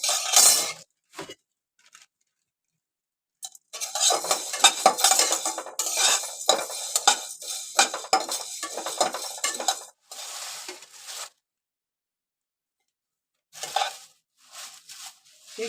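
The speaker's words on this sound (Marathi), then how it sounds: "नागकशी टाकते आणि नागकशी मी भाजून घेते" Nagkesar spice dry-roasted in a pan for Malvani masala, with repeated metal spoon scrapes, clinks and stirring against the pan in irregular bursts separated by silent gaps.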